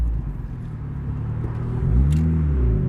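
A passing car with a Nissan VQ engine lets out a brassy, trumpet-like rising wail that swells loudly near the end over a low road rumble.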